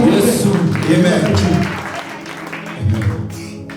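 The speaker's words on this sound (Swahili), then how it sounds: "Shangilia Bwana kwa makofi na Yesu." Worshippers at a church gathering clap together, the applause mixing with a loud voice and crowd sound, strongest at the start and returning in a short swell near the end.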